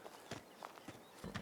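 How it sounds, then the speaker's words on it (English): Draft horse hooves clip-clopping in a short run of uneven steps, fairly close, with no talk. "It's my draft horse, Rosie."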